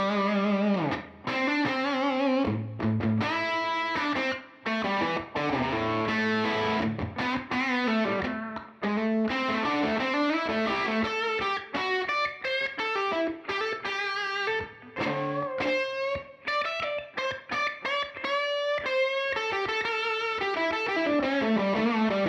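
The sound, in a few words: distorted electric guitar through Universal Audio amp, treble booster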